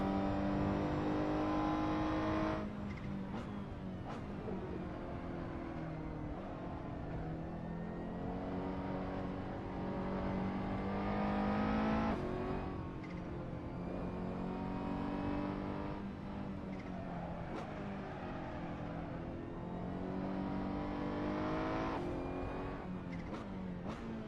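A GT3-style race car in a sim racing game laps a new track, its engine revving up through the gears with sharp shifts and lifts for corners, close and continuous.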